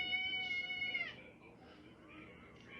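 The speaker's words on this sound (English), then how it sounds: "Hi, kitty." A cat meows a few times indoors, fairly close and moderately loud, with a long drawn-out meow followed by softer, shorter calls and some faint background noise.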